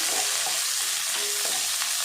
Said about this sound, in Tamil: இப்போ எல்லாத்தையும் சேர்த்து நல்லா வதக்கிடலாம்.